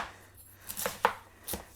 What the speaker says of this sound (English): I'm just going to slice up some onion